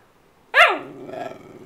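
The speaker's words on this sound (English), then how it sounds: "Stop barking!" A single sharp, close dog bark with a growly edge, followed by a low rumbling growl that trails off.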